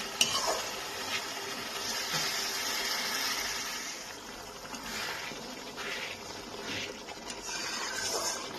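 Masala for a bhetki fish head curry fries in oil in a pan, a moderate steady sizzle broken by occasional stirring scrapes and light utensil clinks.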